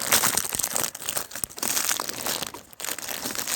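Crinkly plastic wrapping of a Ukrainian armed forces dry ration pack is torn open, a continuous crackling and rustling close up, with brief pauses, and no talk.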